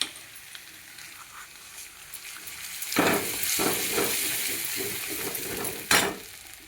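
Grated coconut sizzles in hot oil with a fried garlic-coriander paste, a soft steady fry that swells louder near the middle as the coconut hits the pan, with a few spoon scrapes and a sharp clatter near the end.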